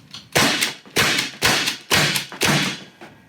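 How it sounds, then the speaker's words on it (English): Five sharp, loud pneumatic shots from a Byrna CO2-powered launcher, fired at a steady pace about half a second apart, each a hard burst with a short fading tail, no talking. "Now if I pull the safety into the fire position, I can fire the launcher."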